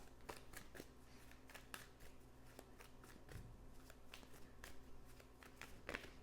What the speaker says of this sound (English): you guys saw I shuffled really well